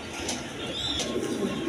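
A pair of imported German Beauty pigeons coo close by, giving a brief, soft, low coo over a steady background.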